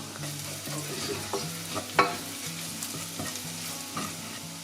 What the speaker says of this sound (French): J'ouvre aussi 2-3 cosses de cardamome et je les fais frire avec.